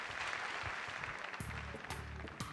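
Audience applause at a stand-up comedy show in Abidjan, a broad crackling clap texture that runs throughout at moderate level, with a few sharper bursts and a voice in the background.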